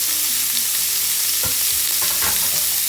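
Steak searing in a hibachi-style pan at home, a steady loud broadband sizzle throughout with a few brief clicks and shifts as pieces settle, no talking.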